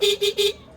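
Three quick beeps of a motorcycle horn in a rapid, even burst, loud and close, then silence.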